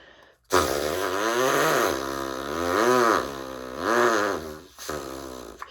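Lips buzzing against the back of a Dixie cup like a brass mouthpiece, a loud raspy blatting tone that wavers and bends in pitch over several seconds, with brief breaks between bursts.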